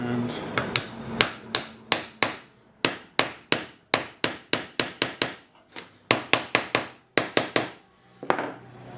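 A hammer drives a glued wooden dowel home into a wooden workpiece: a long run of sharp, close, evenly spaced blows, some in quick pairs, with short gaps between bursts.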